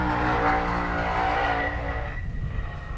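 A 2,000-horsepower LS-powered drag racing car roars loud and close on a half-mile airstrip drag strip, its dense engine note holding steady, then thinning and fading as it pulls away.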